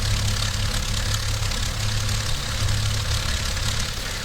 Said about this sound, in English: We'll get the engine started.